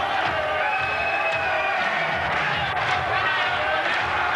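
A home crowd roars and cheers steadily at the 1996 Europe's Strongest Man competition in Finland, a dense wall of noise with a commentator's voice running over it.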